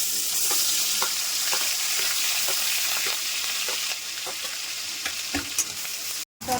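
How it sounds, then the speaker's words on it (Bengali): Onion paste fries in mustard oil left from frying prawns in a kadai, making a constant bright sizzle with repeated spatula clicks and scrapes and a brief cut to silence near the end. "একই তেলে দিয়ে দিচ্ছি পেঁয়াজ বাটা,"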